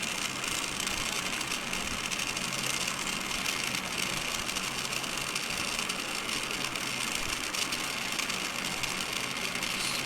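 A DC motor spins at raised speed, giving a steady, even whir with a faint hum that holds constant throughout, with no voices.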